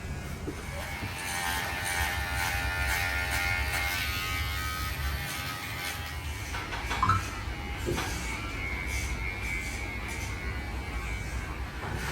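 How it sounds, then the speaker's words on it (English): An electric beard trimmer buzzes steadily and close by through a long stretch of trimming, its hum dipping and shifting slightly as it moves, with no talking. "I just got done with my beard trimming"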